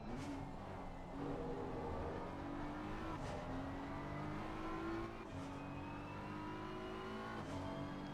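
Porsche race car in a PC racing game at Kyalami, its engine droning loud and steady with rising rev sweeps and gear shifts, no talking over it.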